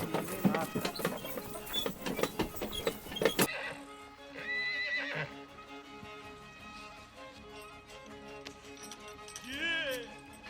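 Horses are harnessed to a cart in the Boyko village of Verkhnie Vysotske, Ukraine: nearby hoof clops and rattling tack, then a whinny, with people talking throughout.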